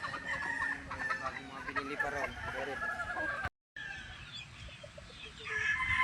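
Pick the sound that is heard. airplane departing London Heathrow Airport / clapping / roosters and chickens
roosters and chickens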